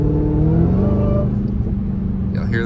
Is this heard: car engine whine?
yes